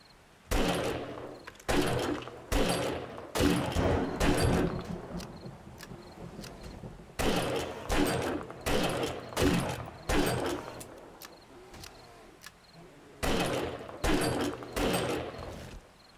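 In the survival game 7 Days to Die, a firearm shoots at an uninfected bear in loud bursts of rapid shots, several volleys separated by short quiet pauses.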